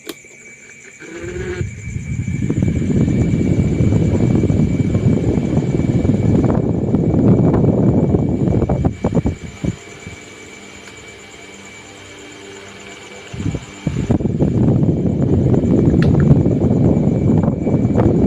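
A mini stand fan with a weak spin is plugged in and runs with a loud, steady close whirring roar, then cuts to near quiet for a few seconds before the motor noise returns just as strongly.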